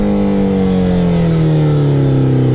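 A motorcycle engine held at a steady throttle while riding at about 20 mph, loud and close, its droning tone drifting slowly downward with constant wind rush throughout.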